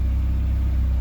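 A 1991 Honda Civic ED6 hatchback idles on its first start through a newly fitted Tanabe Medallion Touring exhaust, a steady low, throaty rumble with an even pulse, close and continuous.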